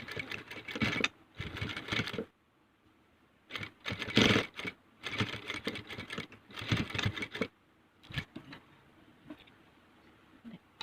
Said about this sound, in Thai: ทีนี้ก็เย็บได้เลยนะคะ